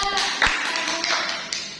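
Children clapping their hands in an elementary classroom, a few short scattered claps under a teacher's voice, brief and fairly close.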